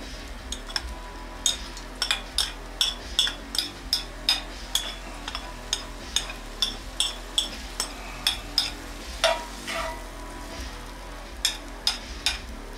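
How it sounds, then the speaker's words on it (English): Onions and peppers fry in hot oil for a homemade meaty spaghetti sauce, a soft sizzle under regular sharp clinks of a utensil stirring against the pan, close and steady, with no talking. "Oil is hot. There are the onions"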